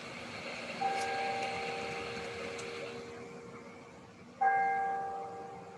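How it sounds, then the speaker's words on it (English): A church bell in the village of Ballygarrett rings twice, a few seconds apart, each strike ringing out and slowly fading at a moderate distance. "we could hear the bell from the church up at the village up in Ballygarrett"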